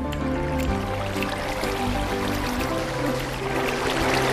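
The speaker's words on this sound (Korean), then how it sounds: "물소리." Flowing water in the blocky sandbox game Minecraft, a steady continuous wash and trickle with soft layered background tones, moderately loud and unbroken throughout, no talking.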